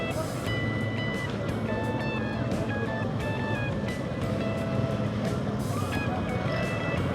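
Busy Divisoria market street with trucks close by, engines rumbling steadily beneath repeated high reversing beeps, with voices and crowd noise around throughout.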